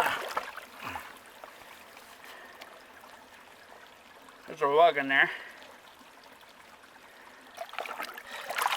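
A small stream near a campsite in Utah trickles and burbles faintly and steadily, and a brief spoken remark rises over the flowing water partway through.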